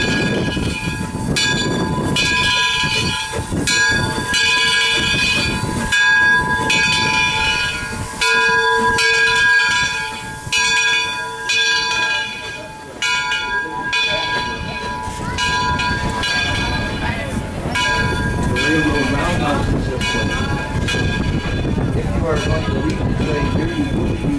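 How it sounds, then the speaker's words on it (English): Train at Greenfield Village with steady rumble, hiss and whistle-like tonal lines, running continuously and fairly loud close by, with people talking over it. "Yay, I'm going to ride this train."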